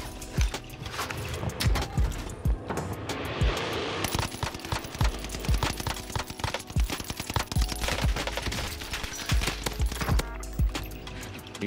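Rapid bursts of MP40 submachine gun fire in Call of Duty Warzone ring out in quick clusters, sharp close shots repeating over a busy game backdrop.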